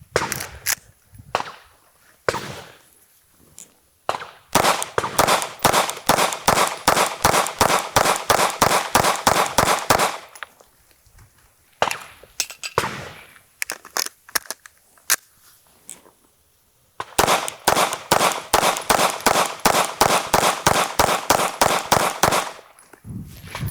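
Pistol firing after being dropped in sand, loud close shots in rapid rhythmic strings with short pauses between bursts, no talk.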